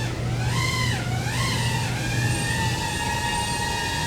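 A DJI Avata drone with aftermarket HQProp propellers flies at over half throttle, a loud whining buzz whose pitch wobbles up and down before settling into a steady tone.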